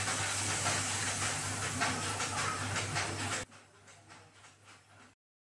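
Water is poured into a hot pan of egg curry and hisses loudly in a steady close sizzle and steam for about three seconds, then falls away to a softer bubbling hiss before stopping.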